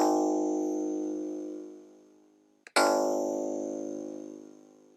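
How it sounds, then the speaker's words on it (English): A bright synthesized plucked note from a MicroBlocks-programmed board rings out and slowly decays, then is struck again and fades once more, clean and resonant with no other sounds. "I used the basic pluck sound you just heard"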